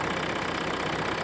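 A Toyota car engine idles steadily after a no-start repair with an injector replaced, a constant broadband running drone with no breaks, moderately loud and alone.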